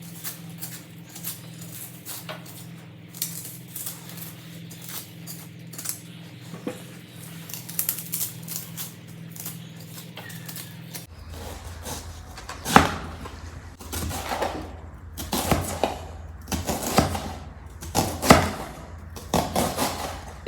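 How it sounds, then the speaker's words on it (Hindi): A knife chops onions on a board in a home kitchen while cooking Kabuli pulao, sharp irregular taps in quick runs, close and fairly loud over a quiet room hum. "इधर अम्मी जी प्याज जो है वो काट रही है"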